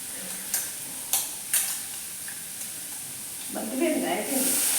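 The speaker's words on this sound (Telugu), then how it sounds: "చింతపండు వేసేస్తున్నాను." Tamarind dropping into a simmering drumstick, egg and jaggery curry, with a few soft splats and stirring clicks over a steady low bubbling hiss that swells into louder sizzling near the end.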